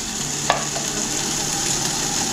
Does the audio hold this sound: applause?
no